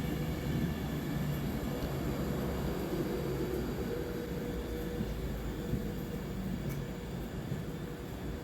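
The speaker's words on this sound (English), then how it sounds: "Our Avanti West Coast Class 390 Pendolino train pulls into platform 6 to take us up to Glasgow Central this morning" Avanti West Coast Class 390 Pendolino electric train pulling into a station platform bound for Glasgow Central, a steady broadband rumble and hiss held at moderate level throughout with no voices.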